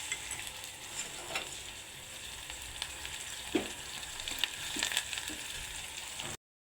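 Ginger garlic paste frying with onions and curry leaves in a pan gives a steady, close sizzle with occasional stirring scrapes and small pops, continuous for several seconds before cutting off, no speech.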